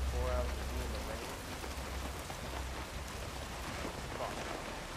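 Steady rain falls in Hitman World of Assassination, a dense even hiss of drops on surfaces with a low rumble underneath, constant and unbroken with no talking.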